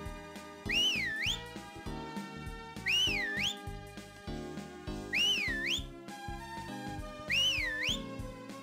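Whistle in the video game Harvest Moon: Magical Melody: a rising-and-falling melodic whistle phrase repeats four times at regular intervals over a steady backing music track, loud and clear.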